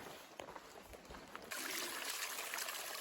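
A small stream trickles beside a rainy Appalachian Trail in the Great Smoky Mountains, soft and distant at first, then a louder, steady close splashing flow.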